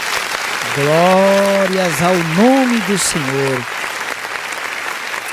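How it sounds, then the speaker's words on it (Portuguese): Church congregation applause at an online worship service rolls on beneath a man's loud, drawn-out call of praise, which dominates the middle before fading into continued clapping. "Vamos aplaudir o nome do Senhor Jesus."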